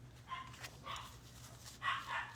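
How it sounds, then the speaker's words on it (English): A dog barking outdoors on a farm, three or four muffled, fairly distant barks spaced out over a steady low hum, with no talking. "sorry about the dog barking."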